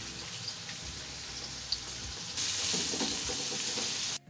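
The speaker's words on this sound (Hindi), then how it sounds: "इसके अंदर हम प्याज डाल देंगे। ये देखें और इनको हम सोते करेंगे।" Onions dropped into hot cooking oil in a karahi, a soft steady sizzle that swells louder partway through and continues evenly, close but fairly quiet.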